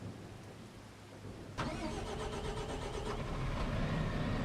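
A tractor engine in Farming Simulator 25 cranks and catches with a sudden burst, then settles into a steady, fairly loud mid-pitched idle that swells slightly toward the end, with no talk over it.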